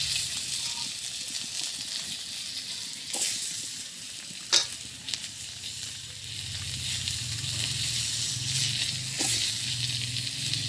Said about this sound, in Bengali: আমি এখন আলুটা ভাজি করে নেব।